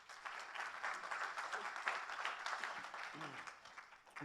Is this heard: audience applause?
yes